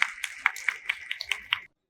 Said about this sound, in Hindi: सबसे पहले एक जोरदार तालियों से स्वागत कीजिए